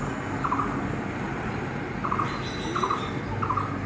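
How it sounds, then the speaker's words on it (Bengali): Birds call from trees outdoors, a few short chirping phrases repeating at intervals over a steady low background hum, fairly faint and with no one talking. "কত রকমের পাখির ডাক পাওয়া যায়।"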